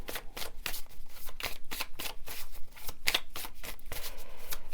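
Oracle cards shuffled close up, a rapid series of crisp riffling flutters and soft slaps repeating steadily.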